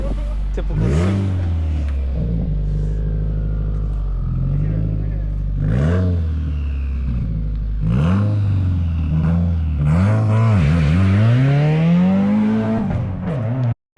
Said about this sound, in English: So now that we know the engine kind of runs, it's time to finalize everything.